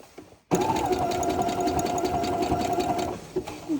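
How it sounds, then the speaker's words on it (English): Sewing machine stitching a trouser seam near the fly, starting abruptly and running as a continuous close, even mechanical whir for about three seconds before slowing and stopping. "I'm just going to stitch along that line."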